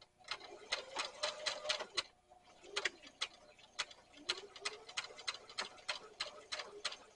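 A sewing machine stitches an over-the-seat rifle carrier in quick runs of rapid, even clicking, pausing briefly before starting again, close by and fairly quiet.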